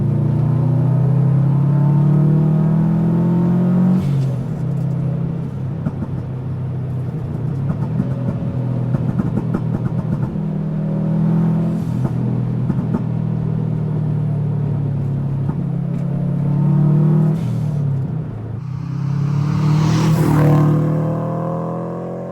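A 2011 Subaru Impreza WRX STI driven on a public road, a steady low engine drone inside the car that swells and eases through gear changes, ending in a stronger rising rev, with no voices.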